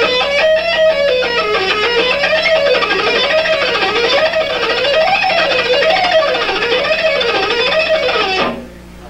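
An electric guitar with palm muting at the bridge plays a repeating six-note scale that shifts between two positions, the notes rising and falling in a steady wavy pattern, clear and close, before stopping abruptly near the end.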